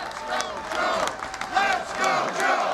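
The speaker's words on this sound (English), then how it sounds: "Union workers cheering President Biden in his first appearance since announcing he's officially running for re-election." Union workers cheer at a campaign rally for President Biden, a large crowd roaring and shouting in sustained, loud waves with chanting voices mixed in throughout.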